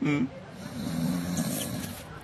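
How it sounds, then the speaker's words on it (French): A man snoring on a French comedy show, a short, low, rasping snore rising and fading over about two seconds, fairly close and moderately loud, preceded by a brief voiced sound. "on l'entend ronfler"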